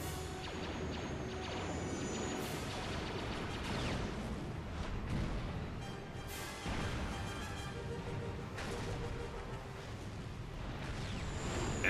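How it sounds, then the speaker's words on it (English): Heavy explosions and rumbling blasts from the Star Wars: Knights of the Old Republic 2 video game, a continuous loud barrage of booms and crashes with no speech. "Explosions!"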